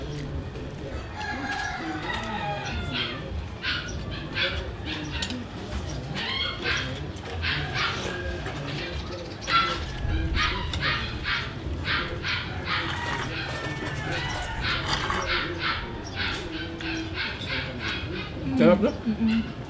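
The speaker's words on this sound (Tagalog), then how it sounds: "Ingay ng aso naman." Dogs bark repeatedly in short bursts at a middle distance outdoors, mixed with roosters crowing and people talking in the background.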